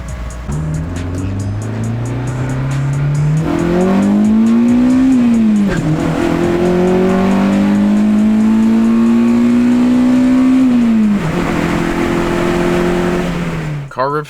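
A K-swapped Acura RSX four-cylinder exhaust revs up on a dyno and holds steady at high pitch, raspy, loud and close, easing off near the end.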